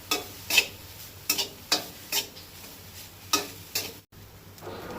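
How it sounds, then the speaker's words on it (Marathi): Soya chunks frying in oil with ginger and green chilli for a Goan-style curry, a low sizzle broken by repeated rhythmic stirring scrapes about every half second, close by. "आतां अर्दे वळे सोय घालता तितून आनी तिवूय तळसून घेवपाक जाय"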